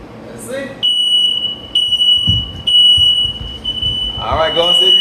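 Household smoke alarms in a 2008 single-wide home under renovation sound a loud, piercing steady tone during a test, cutting in and out in several bursts with people talking around them.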